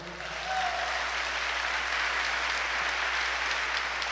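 A church congregation applauds during a Spanish-language sermon, clapping swelling in after a brief pause and then holding as a steady, full roar of many hands with faint voices beneath.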